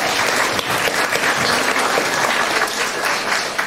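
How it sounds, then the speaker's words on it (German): An audience at a youth hackathon's closing presentations gives a group a sustained round of applause, loud, close and dense clapping that fills the entire moment without speech. "Von daher einen großen Applaus an die Gruppe Webseitenaktualisierung."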